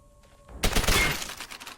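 MP40 submachine gun fire in Call of Duty, a quiet lead-in before a sudden loud burst of rapid automatic shots that tapers into scattered fainter rattles.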